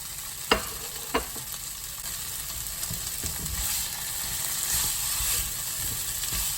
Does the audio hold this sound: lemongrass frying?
yes